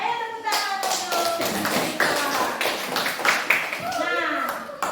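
A class of schoolchildren claps hands together in a sustained burst of applause, steady and dense, with children's voices and chatter mixed in above it.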